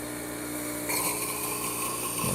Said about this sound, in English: open up the wand, click open that middle button, wait till you see a stream of water coming out